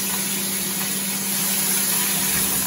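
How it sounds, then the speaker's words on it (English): Steady frying sizzle on foil on a barbecue grill, a continuous close hiss at even loudness with no talking over it. "Here's the sizzle."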